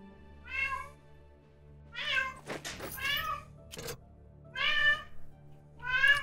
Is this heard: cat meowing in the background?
yes